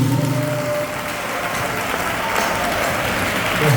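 Sustained applause from a congregation acclaiming the Lord Jesus at a wedding presentation, a steady, dense wash of clapping that holds evenly throughout and swells slightly at the end.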